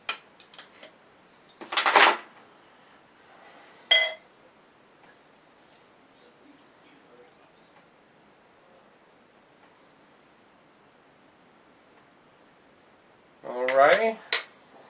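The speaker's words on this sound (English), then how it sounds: "Let's get the cap off of it and see what we got." A bottle of Williamsburg pumpkin ale is opened, with a couple of short metallic clinks and a brief crisp pop-like scrape near the end, set against an otherwise quiet room.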